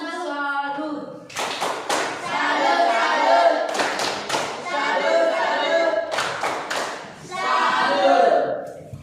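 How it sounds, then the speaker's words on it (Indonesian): A group of people performs a rhythmic 'tepuk salut' salute clap after a class presentation, several quick bursts of sharp claps separated by short pauses, fairly close and lively, with voices mixed in. "Tepuk salut."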